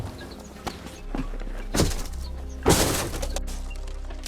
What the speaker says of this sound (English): push out the fragmented glass with any reasonable heavy item,